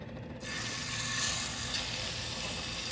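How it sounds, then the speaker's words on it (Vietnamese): Salmon fries crisp in a hot pan, a steady loud sizzle that starts abruptly after a brief quieter moment and then continues evenly, with no talking. "Giờ mình chiên cho nó giòn nhé."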